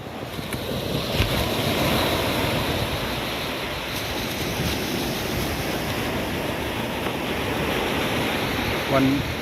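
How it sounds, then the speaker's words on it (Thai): Ocean waves break steadily on a beach at sunrise, a broad continuous wash with wind rumbling over the microphone and no clear pauses between the sets. "คลื่นใสนะครับ"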